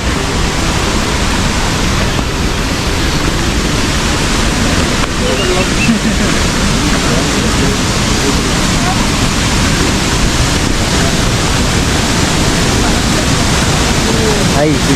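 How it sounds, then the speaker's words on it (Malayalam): A waterfall roars steadily and loudly, a dense continuous rush of falling water that stays unchanged throughout. "വെള്ളച്ചാട്ടം"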